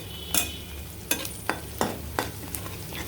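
Cumin seeds frying in a pan with a soft continuous sizzle, broken by about six sharp scraping strokes of a spoon stirring them, close and clear with no talking.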